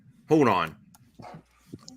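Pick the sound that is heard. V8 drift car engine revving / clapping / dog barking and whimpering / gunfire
dog barking and whimpering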